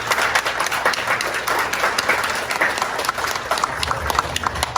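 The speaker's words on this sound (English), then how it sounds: "could we give another round of applause to Mike and to Jeff?" Audience applause at a typography meetup, a dense continuous patter of clapping hands from a close, lively crowd, loud and steady for the whole stretch.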